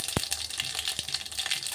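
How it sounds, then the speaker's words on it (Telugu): Tempering seeds crackle in hot oil while a coconut chutney is made, a close sizzle with a few sharp pops over a steady hiss. "ఆయిల్ హీట్ ఎక్కాక తాలింపు గింజలండి."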